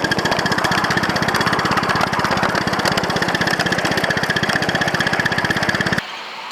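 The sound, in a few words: steam locomotive groaning when starting uphill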